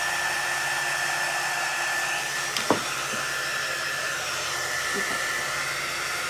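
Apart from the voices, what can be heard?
blow dryer drying a hat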